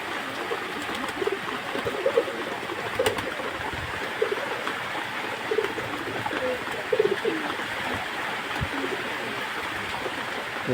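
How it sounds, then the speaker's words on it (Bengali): A flock of pigeons coos softly while feeding, low repeated calls scattered over a steady rain-like hiss of background noise, moderately close with no talking. "দেখছেন একসাথে কত কবুতর খাচ্ছে"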